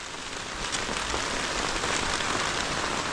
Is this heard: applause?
no